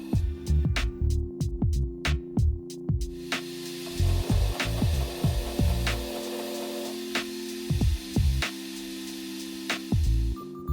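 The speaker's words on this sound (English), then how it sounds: "I start off by roughing it in with a file just to give me a point to start from" A hand file roughs in a knife blade with rhythmic, close scraping strokes, each a short rasping burst, repeating steadily with brief pauses, loud and dry in a quiet workshop.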